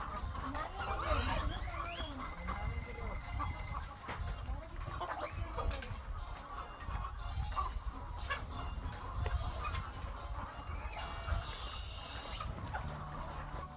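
Chickens cluck and call on a farm, a steady scattered chatter of many birds close by, with occasional louder squawks over a constant background hum.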